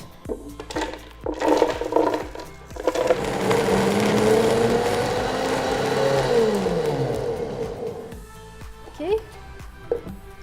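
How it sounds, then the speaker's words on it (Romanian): A blender grinds hemp seeds, buckwheat, Romanian walnuts and dates for a raw vegan cake, a loud steady whirring churn that builds after a few seconds of handling noises and runs for most of the clip before winding down. "Le punem pe toate în blender, le mixăm cât mai mărunt."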